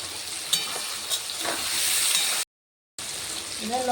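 Onions dropped into a pan of salted potatoes and carrots frying in oil, a steady close sizzle that cuts out briefly and then resumes.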